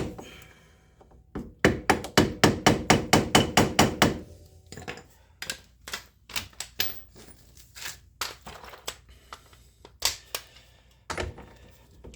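Sharp metal taps of a punch knocking up the staked axle nut on a Yamaha Grizzly ATV wheel hub: a fast, even burst of about a dozen close, loud hits, then slower, scattered taps with pauses.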